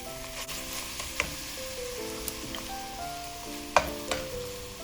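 Chutney ingredients such as chana dal, coconut and salt sauté lightly in a pan, giving a steady soft sizzle with occasional stirring clinks and scrapes throughout.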